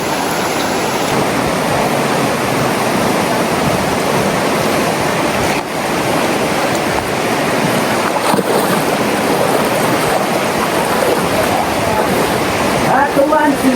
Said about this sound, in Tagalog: Ganito kasarap sa ilog, tabing ilog.